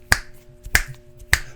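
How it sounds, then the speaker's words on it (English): Three crisp finger snaps spaced evenly about two-thirds of a second apart in a classroom, sharp and close against a faint background hum. "You don't have to snap your fingers."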